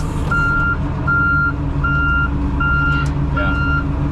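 A snow cat backing up through mud sounds five evenly spaced reversing beeps over a steady, loud engine rumble.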